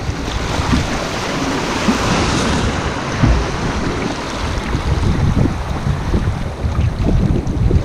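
Canoe paddling down an easy class 1 river rapid in the burnt lands of Temagami's Lady Evelyn-Smoothwater area, with steady rushing and splashing water filling the clip at a constant close level, plus some wind buffeting.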